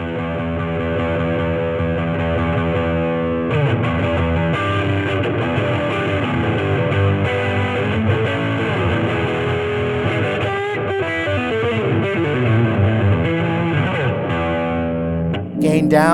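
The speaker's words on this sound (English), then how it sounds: "Gain is the amount of overdrive or distortion. So we'll crank that up to like 7." A Fender electric guitar amp on its British voicing with the gain turned up to about seven gives a thick, overdriven, distorted guitar tone, played continuously and loudly in chords and riffs.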